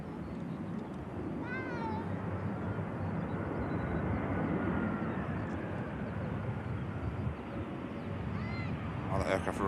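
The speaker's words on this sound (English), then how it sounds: "While the aircraft rolls out" An EasyJet airliner rolling out after landing, heard as a continuous broad, distant roar of engines and runway noise that holds steady throughout, with a few faint chirping calls on top.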